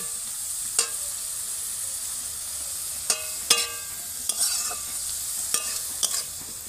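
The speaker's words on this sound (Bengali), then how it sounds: "এবার আমি শাকটাকে দিয়ে দেব।" Gima greens being stir-fried with fried potatoes in a pan for a traditional Bengali dish, giving a steady close sizzle broken by several sharp scraping clinks of a spatula against the pan.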